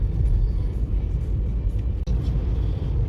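A car drives along a road, heard as a continuous low rumble of engine and tires from inside, steady with a brief dip midway.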